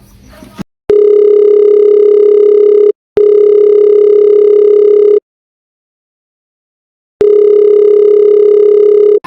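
A phone ringback tone on an outgoing call during a prank call: steady, loud electronic tone bursts of about two seconds each, separated by short and long silent gaps, with no voices.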